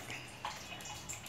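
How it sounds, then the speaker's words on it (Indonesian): Water trickles and splashes steadily over a small handmade miniature waterfall, a faint close gurgling flow with light drips and no voices. "miniatur air terjun."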